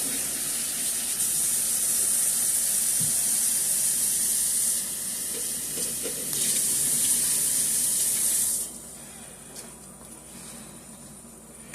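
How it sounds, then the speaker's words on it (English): Hot water streams from a kitchen tap during handwashing, a steady hiss of spray into the sink with brief shifts in flow, then it cuts off, leaving a quieter room. "Let me wash my hands off a little bit."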